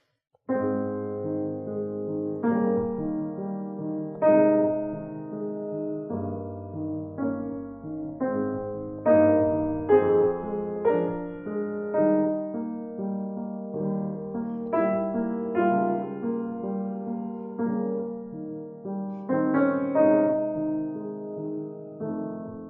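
Solo piano plays the slow, lyrical melody of Beethoven's Pathetique sonata, second movement, over a gentle, flowing accompaniment, soft and sustained with a warm, even tone throughout.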